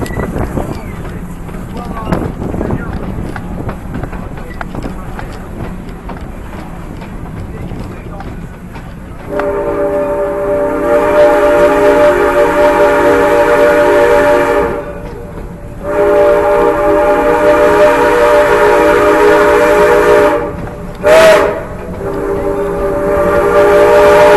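A loud steam train whistle on the Georgetown Loop Railroad sounds in long blasts with a short break between them, over the steady rumble of the moving train.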